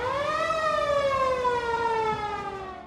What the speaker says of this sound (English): And when it's down, it's the siren.